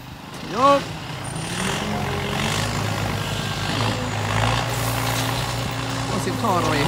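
A ten-wheel dump truck hauling rock for roadwork rumbles steadily, its engine revving and the exhaust droning loud and near throughout, while a person talks over it.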